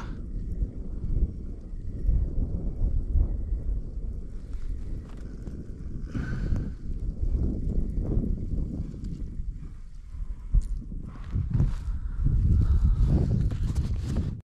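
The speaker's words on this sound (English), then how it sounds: "Don't mind my kayak engine." An electric motor pushing a fishing kayak across Ben Chifley Dam gives a steady low droning hum, mixed with rushing wind buffeting the microphone throughout.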